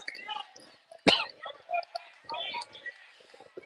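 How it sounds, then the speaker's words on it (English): A single sharp cough at a high school varsity baseball game, close and brief, amid faint background chatter and ambient crowd sounds. "I apologize for coughing there."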